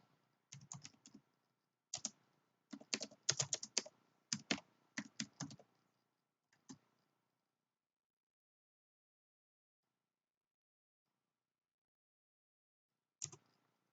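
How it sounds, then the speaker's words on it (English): Computer keyboard typing a quick message, close and clear, in rapid clattering bursts of keystrokes over about seven seconds, then a long silence broken by one last short tap. "I'm just going to type a quick message to Misty."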